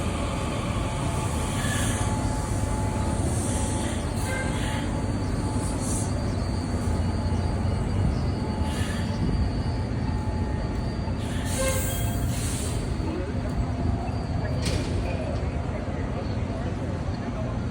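An Atlanta metro train rumbles steadily close by, with occasional high wheel squeals and screeches riding over the continuous roar.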